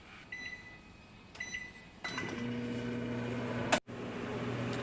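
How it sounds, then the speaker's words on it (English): A microwave oven hums as it heats salted pork, a low steady drone with a faint whine, a few soft beeps and clicks before it starts, and a brief cut-out near the end. "this baby's going straight in the microwave"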